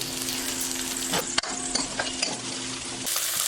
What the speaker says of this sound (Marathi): हे मटार हे मक्याचे दाणे याला आता हलून घेऊ